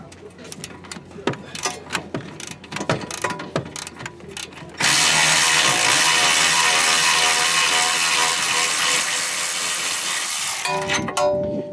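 Bolts are broken loose while a rear camber kit is installed on a car: a burst of rapid ratcheting clicks gives way to a long, loud, steady whir of a power tool that stops abruptly, with voices in the background.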